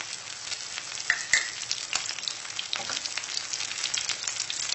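Cooking oil sizzles and fries steadily in a pan with food being crisped, a continuous close crackling hiss with small pops and occasional scraping, no talking.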